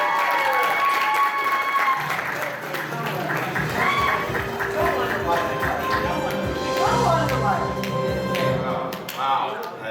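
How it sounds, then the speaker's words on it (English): An audience at an anime convention game show claps and cheers steadily for about ten seconds, a dense spread of clapping with a host's voice talking over it. "give a round of applause, guys."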